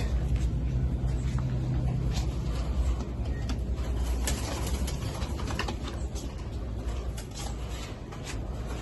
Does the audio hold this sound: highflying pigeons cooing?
yes